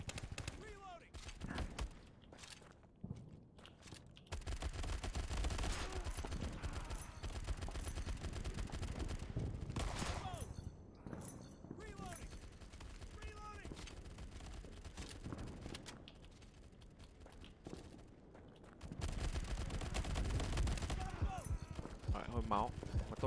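Rapid bursts of gunfire from the World War 2: Battle Combat video game crackle in quick volleys and machine-gun rattles, with someone talking over the shooting throughout.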